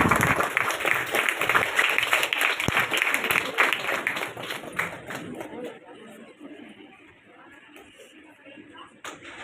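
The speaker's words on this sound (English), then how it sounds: "A big round of applause." Audience at a school felicitation ceremony for phonics and spelling bee students applauds as alumni come to the stage; loud dense clapping for several seconds thins out and fades to scattered claps and murmuring chatter.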